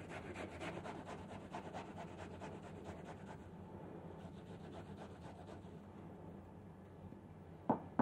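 Cooked, cooled potatoes grated by hand onto a cloth in an Austrian hotel kitchen: a steady, close rasping scrape repeated in quick strokes for several seconds, then quieter, with a couple of sharp knocks near the end.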